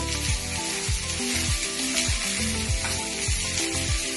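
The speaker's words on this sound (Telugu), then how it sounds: "ఇంకా వేపుళ్ళు ఏవైనా సరే అండి కొంచెం సిమ్లోనే తక్కువ అగ్గి మీద వేస్తేనే బాగుంటాయండి" Dondakaya (ivy gourd) pieces fry on a low flame with a steady, close sizzle and bubbling, and a few soft knocks come at regular intervals.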